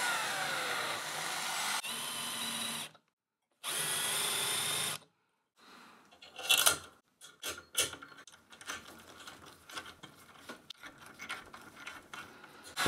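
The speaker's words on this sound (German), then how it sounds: "Dazu wieder bohren und senken." Power drill boring and countersinking holes in metal for hinges on a homemade holder for a 20-litre jerrycan: two long steady whining runs split by a silent gap, then a stretch of scraping, clicking tool handling.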